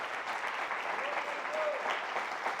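A church congregation applauds during a sermon, a steady, even wash of many hands clapping, somewhat distant and soft, with a faint voice over it.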